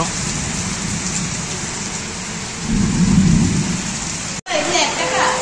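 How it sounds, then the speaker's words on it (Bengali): Evening rain pours steadily with a dense hiss, while a deep thunder rumble swells partway through and lingers beneath the downpour. "বৃষ্টি দেখাচ্ছে, দেখো মেঘ ডাকছে, মেঘের আওয়াজ শুনতে পাচ্ছ।"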